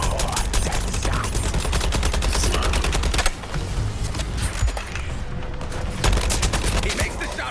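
Rapid bursts of gunfire from the Suicide Squad: Kill the Justice League video game, loud and dense, with sustained automatic fire, heavy booms and brief pauses, a voice speaking over the battle.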